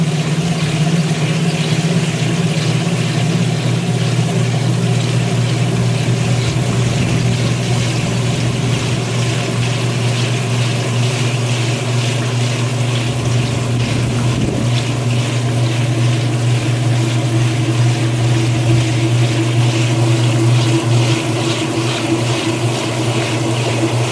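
A Kenmore 80 Series washer pumping out its water during a test cycle makes a steady, loud motor hum with a constant whirring drone, unbroken for over twenty seconds and close by.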